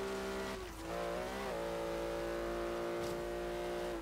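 A Porsche Cayman driven in Forza Horizon 3, its engine holding a steady, sustained drone with a brief dip in pitch as it shifts, running continuously for a few seconds without talk.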